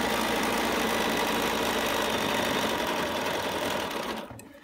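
A sewing machine runs steadily, stitching through fabric while a custom fabric container is sewn, its motor humming evenly and close, then slowing and stopping near the end.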